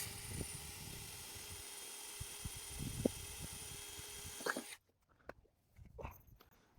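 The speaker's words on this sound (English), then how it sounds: "so that I can drill a slight hole." A drill whines steadily at close range, drilling a hole in metal, for several seconds before stopping abruptly, leaving a few faint clicks and handling noises.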